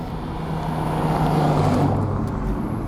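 A 2019 Mazda MX-5 engine drones steadily while driving, a low continuous hum with road noise. It stays fairly loud and even throughout the short stretch, with no speech.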